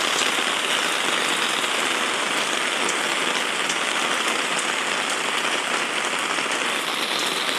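Heavy rain pours steadily onto a shop roof that leaks inside, making a loud, constant dense patter with no break and no talk.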